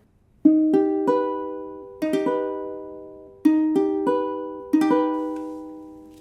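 Augmented chords in an ear-training exercise, each played first as separate ascending notes and then struck together, in four clean evenly spaced attacks that ring and decay, with no voices.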